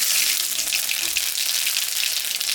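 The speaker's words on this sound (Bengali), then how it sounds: "মাছ ভাজা তেল আছে, এখন আমি সম্বরা দেব, কালো জিরা," Black cumin, radhuni and dried chillies sizzle in hot oil left over from frying fish, a steady close hiss that holds unbroken throughout with no voices.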